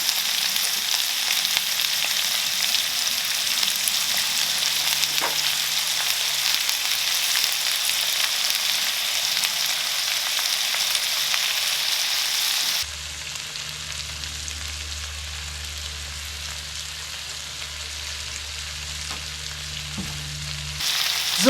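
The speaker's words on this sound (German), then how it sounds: "wir braten Paprika und Knoblauch an" Peppers and garlic fry in a pan for a Balkan paprikaš, a loud, close, continuous sizzle that shifts partway through to a lower, slightly quieter crackle with a faint hum underneath.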